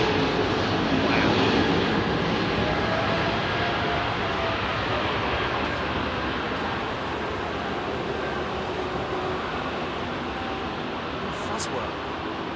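Airliner jet engines with Pratt & Whitney power spool up at Heathrow, making a steady, loud broadband roar that holds for the whole stretch without a break.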